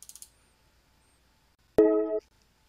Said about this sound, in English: like the notify, when a notification pops up,